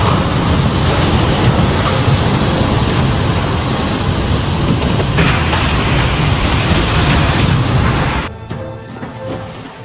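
A loud, steady roar of torrential rain from Super Typhoon Bebinca in Shanghai pours down without pause, then abruptly drops to a quieter patter near the end.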